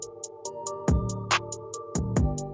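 Programmed hi-hat in a Cakewalk step sequencer ticking in even eighth notes at one constant level, over a kick, snare and sustained synth notes.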